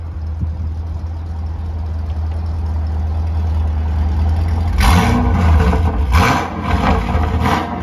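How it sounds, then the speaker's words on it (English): A Pontiac G8 GT engine idles with a low, steady rumble, then is revved hard several times in quick bursts, loud and close. "I'm gonna give y'all a little revs, couple revs."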